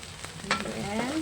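Garlic and onion fry in a hot pan, a low steady sizzle with a soft stir or scrape, close and quiet, with no talk.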